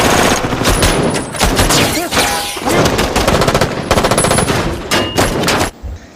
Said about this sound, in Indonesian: terjadi baku tembak di kedua belah pihak yang menyebabkan beberapa polisi gugur